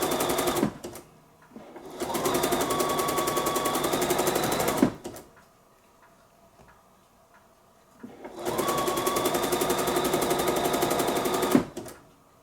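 Bernina sewing machine with edgestitch foot 10 stitching a lace band, two steady whirring runs of rapid needle rhythm, close and fairly loud, separated by a quiet pause.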